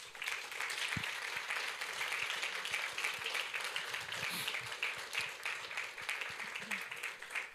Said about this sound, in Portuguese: Aplauda a Deus por isso.